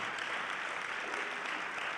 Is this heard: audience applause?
yes